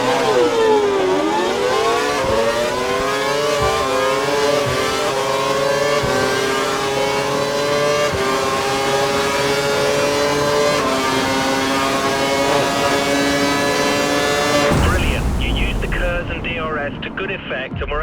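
Formula One car in the F1 2012 racing game accelerating hard through its gears during an overtake with KERS and DRS, a loud rising and falling engine whine held close throughout, cutting to a quieter transition near the end.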